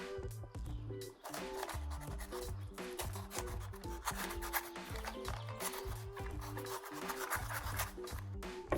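A Moyu Meilong 5M magnetic 5x5 cube box is opened by hand, with continuous close rubbing, scraping and rustling of cardboard and packaging, dense and busy throughout, with no talk.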